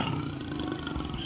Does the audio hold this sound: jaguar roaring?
yes